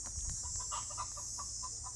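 Backyard chickens clucking in short repeated calls around a hen laying an egg, moderately close and steady, with a constant high hiss of background noise and no talking.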